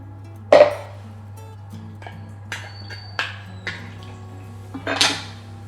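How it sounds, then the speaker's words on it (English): Lamb tagine with chickpeas, green olives and honey is stirred in a pot, giving a few scattered metallic clinks and scrapes of a spoon against cookware over a steady low hum. "You stir it all through with the honey, the chickpeas and the olives"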